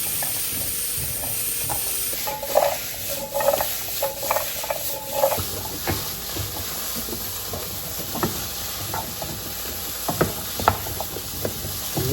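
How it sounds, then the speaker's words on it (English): Vegetables browning in batches in a pan for a beef and Guinness pot pie filling sizzle steadily under scattered clinks and scraping of a utensil against the pan, close and moderately loud, with no talking. "Just add the vegetable in batches just to help brown them off a bit as well."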